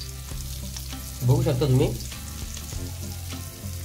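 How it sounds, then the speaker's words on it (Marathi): Masala-coated prawns sizzle in oil on an iron tawa, a continuous close crackle with a brief swell in the middle, while a voice speaks briefly over it. "लोखंडाचा तवा पाहिजे, मग चांगलं फ्राय होतं."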